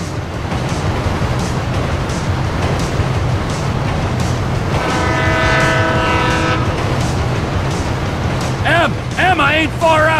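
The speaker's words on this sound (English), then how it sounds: "Train ain't stopping here, boys!" A train rumbling past continuously in Grand Theft Auto V, with a long horn blast in the middle and voices calling out near the end over the steady roar.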